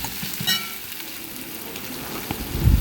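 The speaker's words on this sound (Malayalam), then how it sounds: "ഉള്ളിയും വെളുത്തുള്ളിയും കൂടി വെളിച്ചെണ്ണയിൽ അടുപ്പത്ത് വെച്ചു ഉള്ളി മൂപ്പിക്കാനാണ്" Onion and garlic frying in coconut oil on the stove, with curry leaves going in, a close, dense crackling sizzle with a brief sharp pop and light stirring.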